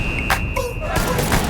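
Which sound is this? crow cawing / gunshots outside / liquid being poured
gunshots outside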